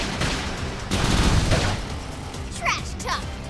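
Gunfire crackles through a battle in the video game Xenoblade Chronicles X: dense, noisy bursts of shots for about a second, then a thinner stretch ending in a couple of sharp, chirpy weapon effects.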